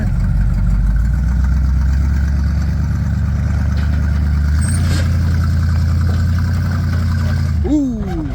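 Bombardier wide-gauge snow machine engine running steadily at a shop, a loud low throbbing drone that shifts up as it is driven onto a trailer, followed by a brief whine near the end.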